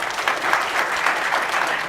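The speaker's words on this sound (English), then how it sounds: "That deserves an applause" Brief burst of audience applause at a product presentation, dense steady clapping from a crowd, moderately loud and even for about two seconds.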